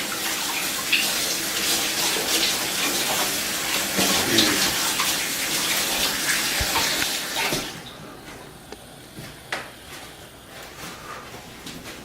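A tap runs in a steady gush as hands are rinsed of biscuit dough, loud and close for about seven seconds before it cuts off, leaving a quiet room with a few faint clinks.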